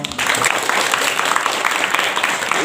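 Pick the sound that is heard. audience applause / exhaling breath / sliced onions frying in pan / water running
audience applause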